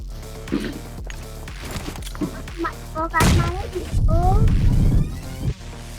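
In BGMI mobile gameplay a grenade explodes with a loud burst, surrounded by sharp gunfire cracks and game effect sounds, all close and dense over a few seconds.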